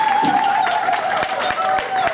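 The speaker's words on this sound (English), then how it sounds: "let's give her another round of applause" Audience at a Grandparents Day school assembly applauds a comedian, a sustained patter of many hands with a few sharper claps, a faint tone running underneath.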